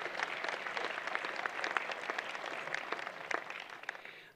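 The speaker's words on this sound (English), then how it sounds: "I think applause would be suitable, Rod." Audience applause at a Trent University graduation ceremony, a dense, steady crowd clapping that holds for several seconds before tapering off at the end.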